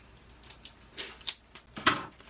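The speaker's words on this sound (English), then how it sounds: "let me grab a scissors here and we'll open this up" Scissors snip through the packaging of a Stampin' Up! Gorgeous Posies card kit in several short, crisp cuts and rustles, close and fairly quiet, the last cut the sharpest.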